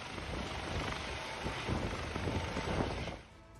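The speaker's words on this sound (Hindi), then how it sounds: "यात्री मौजूद थे उनको किस तरह से रेस्क्यू किया गया हेलीकॉप्टर के जरिए" A rescue helicopter airlifting passengers from a cruise ship gives a steady, loud rotor and engine roar mixed with wind buffeting, holding constant before dropping away near the end.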